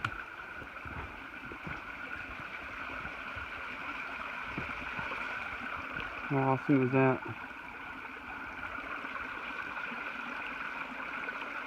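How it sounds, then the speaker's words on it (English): Creek water running steadily near Stover Creek shelter on the Appalachian Trail, a constant close rushing wash that continues the whole time while a person briefly speaks over it midway. "I love the sound of running water."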